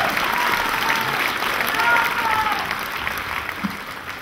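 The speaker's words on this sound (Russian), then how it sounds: "Ваши аплодисменты!" Loud, sustained applause from a large audience at a children's fashion theater show, a dense wash of clapping that holds steady and tapers slightly toward the end.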